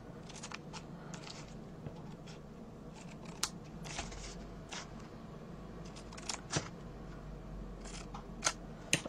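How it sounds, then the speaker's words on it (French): Scissors cut paper at an angle while making a tea box, giving soft, scattered snips and rustles at close range over a quiet background. "On coupe en biais, tout simplement."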